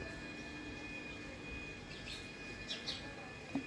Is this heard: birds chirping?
yes